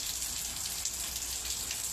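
Heavy rain pours down in a dense, unbroken hiss of drops striking surfaces, steady and fairly close with no other sounds.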